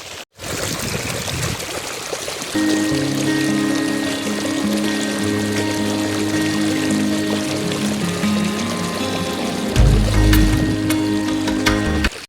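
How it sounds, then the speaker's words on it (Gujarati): A motor pump drawing water from a farm pond sends out a loud, continuous gush and splash, with a steady mechanical hum rising under the rushing water. "મોટર ચાલુ થઈ ગઈ છે હવે તમે પાણીનો પ્રેશર જુઓ"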